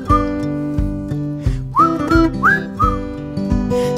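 A cartoon bird whistles a lilting melody of rising and falling notes over a bright instrumental accompaniment, the whistled phrases standing out clearly and close in the middle of the passage.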